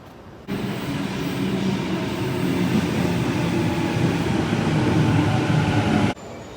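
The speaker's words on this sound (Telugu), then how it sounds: "ఇప్పుడు ఇంటర్నేషనల్ ఎయిర్పోర్ట్కి ట్రైన్ పెట్టుకొని వెళ్తున్నాను." A continuous low rumble and roar of a moving train to Sydney International Airport, heard from inside the carriage, holding steady for several seconds before cutting off.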